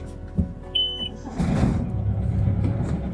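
A short electronic beep sounds once as a sailboat's motor is started, followed by a steady low engine rumble that continues to the end.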